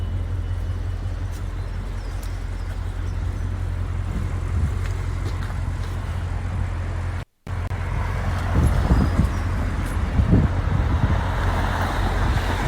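An Audi RS6 cruises on a road in the early morning, giving a steady low engine and tyre rumble with road noise from inside the cabin, then a brief dropout and a slightly louder, rougher passage.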